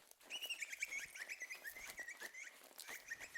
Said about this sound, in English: Oh, nice little bird sound there